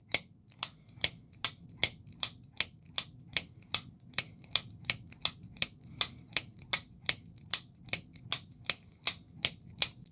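A Kansept Nahua folding knife is flicked open and shut over and over, giving sharp, crisp clicks at a steady, rapid rhythm, about two or three per second, close up over a soft low background hum.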